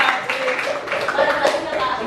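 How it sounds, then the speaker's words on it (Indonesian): A school class claps hands together in a brief burst of scattered applause, fairly close, lasting a couple of seconds. "Oke, tepuk tangan."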